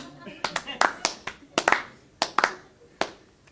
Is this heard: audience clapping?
yes